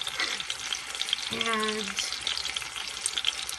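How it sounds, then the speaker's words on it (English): Water added to a hot pan on the stove, with a sudden steamy sizzle and bubbling hiss that then settles into steady frying, close up and with a brief spoken word. "I'm going to be adding a bit of water."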